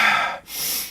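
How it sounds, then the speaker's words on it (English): Deliberate rapid, deep hyperventilation breathing, heard as one quick forceful breath out and a sharp breath in, close and breathy with no talking. "the repetitive breathing more quickly and deeply"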